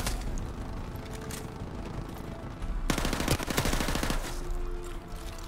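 Rapid bursts of gunfire in Call of Duty 4 Modern Warfare Remastered, loud and dense over a constant game background, with a sharp cluster of repeated shots in the middle.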